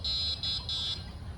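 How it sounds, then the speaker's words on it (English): Viribus SC 5 E electric trike horn sounding in three short, fairly faint beeps over a low background rumble, the last beep the longest. "Honking his horn."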